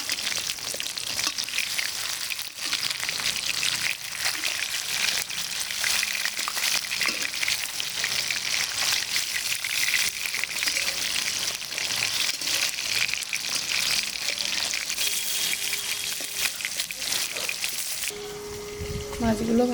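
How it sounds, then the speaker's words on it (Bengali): Pieces of katla fish fry in hot oil in a pan, a steady, loud, dense sizzle and crackle that runs unbroken throughout while the pieces are turned. "আমি আস্তে করে মাছগুলো উল্টে নেব"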